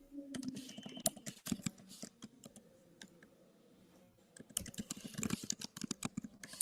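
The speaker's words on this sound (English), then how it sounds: "I can hear her typing now." Typing on a computer keyboard, close and quiet: brisk bursts of clicking keystrokes, then a pause of sparse taps before the rapid typing resumes.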